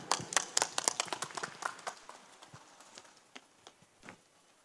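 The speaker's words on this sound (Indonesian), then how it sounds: "Tepuk tangan lagi dong untuk Bro Sony ya, luar biasa." Applause from a talk show audience at a Vesak festival: a brisk burst of scattered hand claps that thins out and fades to a few sparse claps at a moderate distance.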